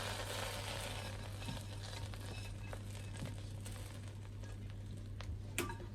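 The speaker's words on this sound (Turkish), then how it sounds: "benim yağım da kızardı. Yağı da şöyle üzerine boşalttım." Hot oil poured over a pot of green lentil soup, made with butter and tomato paste, sets off a steady, close sizzle and crackle that runs through the whole stretch without any talk.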